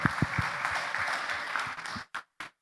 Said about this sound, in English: give yourselves a round of applause for all the work that you've done.